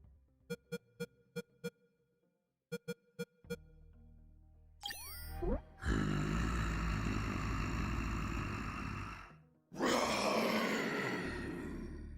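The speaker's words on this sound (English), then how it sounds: "Damn T-Rexes." A T-Rex roars in the UnMetal video game: a long, loud, sustained roar follows a few plinking game tones and a rising glide, breaks off briefly, then returns loud again.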